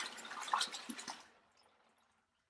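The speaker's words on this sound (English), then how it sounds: "We're going to pour it in here." Cooled turkey brine poured into a large vessel, a short splashing gush of liquid that tapers off after about a second, with a faint drip following.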